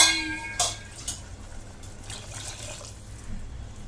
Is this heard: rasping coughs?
no